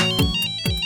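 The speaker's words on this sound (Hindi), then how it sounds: "अरे हर्षिता, बहुत सालों बाद फोन किया" A phone ringtone for an incoming call plays loud and close: a bright electronic melody with bell-like tones and a swooping pattern that repeats within a second, with no voices.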